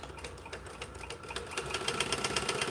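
Sewing machine top stitching a fringed bag: a fast, steady mechanical chatter of needle strokes with a whirring motor, close and continuous, slightly speeding up toward the end, with no talking.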